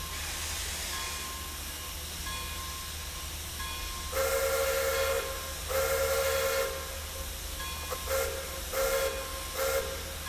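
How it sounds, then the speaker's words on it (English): Steam locomotive whistle of a Pere Marquette N-1 2-8-4 Berkshire in Train Simulator Classic, sounding in several blasts, two long then shorter ones, loud over a steady hiss of steam and rumble. "The whistle does function."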